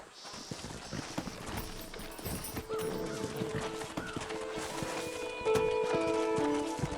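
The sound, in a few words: horses clip-clopping in video game Red Dead Redemption 2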